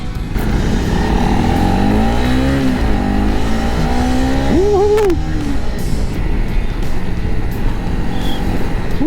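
A Honda CRF 250 Rally motorcycle, a 2021 model, revs hard as it accelerates, its engine note climbing and dipping through gear changes, loud and close throughout.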